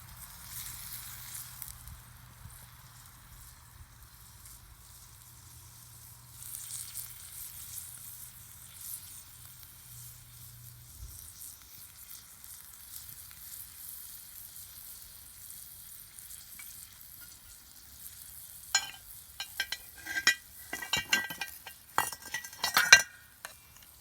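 Chops stew in a cast iron pot, a soft continuous sizzle running low in the background, followed near the end by a cluster of sharp metallic clinks and scrapes.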